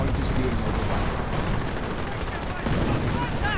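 A World War II strategy game battle fills the scene with dense, continuous gunfire and artillery blasts, loud and close, with a voice partly mixed in underneath.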